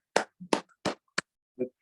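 A Zen master claps his hands, several sharp separate claps spaced irregularly in a quiet room, close and clear with silence between them.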